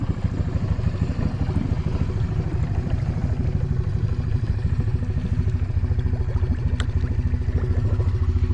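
A Honda Big Red ATV coasting in neutral toward a pond, its engine putting out a steady, close, rattly idle rumble throughout, with no talking.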